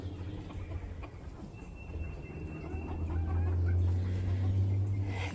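Chickens cluck softly and intermittently over a steady low droning hum, growing a little louder toward the end.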